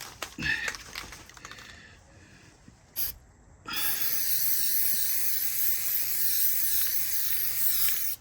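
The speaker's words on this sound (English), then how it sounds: "make sure you shake up the can really good" A can of Plasti Dip rattles with a few quick shakes, then after a brief pause a loud continuous spray hisses close by for several seconds while a car emblem is coated.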